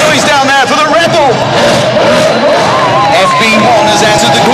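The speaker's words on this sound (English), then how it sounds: "We got a Formula 1 car." A Red Bull Formula 1 car runs a course at the Red Bull X Fighters 2009 event in London, its engine whining and shifting pitch as it passes, loud under crowd noise and an announcer's voice.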